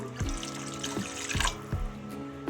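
Water trickles and splashes into a cooking pot of taro paste, turmeric and salt, with a few soft metallic knocks along the way; the sound is close and fairly quiet.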